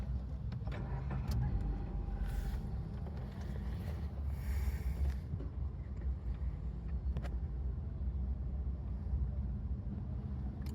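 A petrol car with 18,021 km on it, with injector cleaner just added to the fuel, runs its engine in a steady, close rumble, with a few faint clicks and rattles over the drone and no speech.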